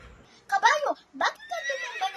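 A horse whinnies in a few bright, wavering bursts, close by, with a softer trailing call at the end.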